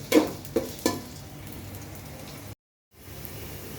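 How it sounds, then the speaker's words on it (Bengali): Onions for birista fry in oil in a kadai for beef tehari, with a soft steady sizzle, three sharp stirring clanks near the start, and a brief dropout. "এখন পেঁয়াজটাকে একটু বেরেস্তা করে নেব আমি।"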